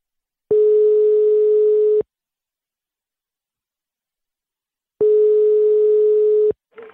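Telephone line tone heard while placing a call, two steady long beeps about a second and a half each separated by silence, loud and clean, with a brief start of a third.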